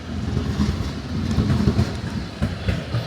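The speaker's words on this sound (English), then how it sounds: "One of the many trams just whizzing by there." A tram rolls past on a city street in Krakow, a loud rumbling, clattering pass with rhythmic wheel clacks close by, and no talking.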